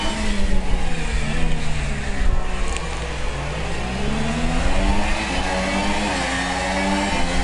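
Formula One race car engines at the Singapore Grand Prix revving and shifting, loud and continuous, with rising and falling pitch sweeps as the cars work through corners and back onto the power.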